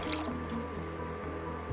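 Water poured from a measuring cup into a cooking pot for noodle soup, a steady close liquid stream with small splashes and drips that runs without a break.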